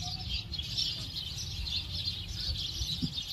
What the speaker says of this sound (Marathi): चिमण्यांचा इतका किलबिलाट आहे